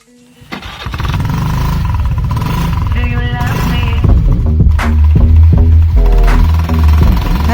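A modified Honda Dio scooter fitted with an FZ muffler fires up and revs. The exhaust note is loud and close, a rough, throaty burble climbing through several sharp throttle blips.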